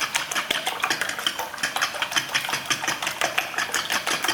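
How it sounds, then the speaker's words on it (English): Eggs given a quick, light whisk in a bowl during home freezer meal prep, a fast steady run of scratchy metallic clicks and taps that repeats evenly and close by, with no talking. "So I'm just going to give them a quick whisk."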